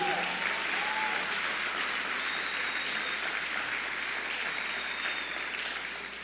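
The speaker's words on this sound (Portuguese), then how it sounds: "Pode aplaudir o nome do Senhor por isso?" A church congregation applauds in one steady, continuous wash of clapping that fills the room and fades slightly near the end.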